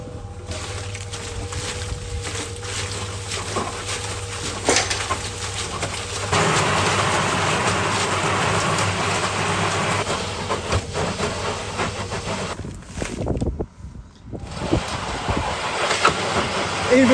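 An old, worn-out tumble dryer repurposed as a cement mixer turns steadily with a continuous rumbling, hissing churn throughout, briefly dipping near the end before the drum noise resumes.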